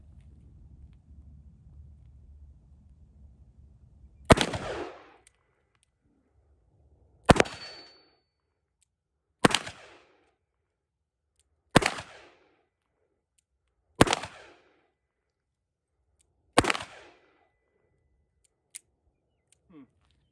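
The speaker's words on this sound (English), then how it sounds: "shooting 357 out of this is like shooting 38 special out of my 65" A Smith & Wesson 686 revolver fires .357 Magnum rounds in double action: six sharp, loud reports at uneven intervals of about two to three seconds, each with a short ringing tail, plus a faint click near the end.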